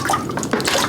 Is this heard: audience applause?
no